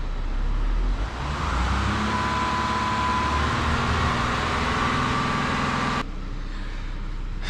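A Volkswagen Amarok 3.0 TDI V6 diesel runs at raised revs during a ZF 8HP gearbox service, giving a steady, loud, close drone that drops to a lower idle toward the end.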